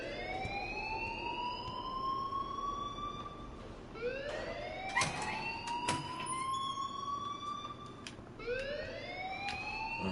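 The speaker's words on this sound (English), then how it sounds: "please turn off that alarm" A wailing alarm in the video game Life is Strange repeats in rising sweeps, three long cycles at a moderate level, with no talk over it.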